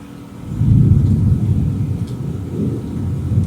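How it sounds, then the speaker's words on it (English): Thunder rumbles in the background during a relaxed outdoor chat, a deep, rolling low roar that swells after half a second and keeps grumbling steadily for several seconds. "I hope you can hear the thunder in the background."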